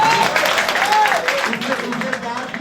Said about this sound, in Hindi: दोस्तों ताली बजाना है